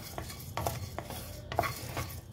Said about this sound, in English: Just keep stirring it to ensure that it doesn't burn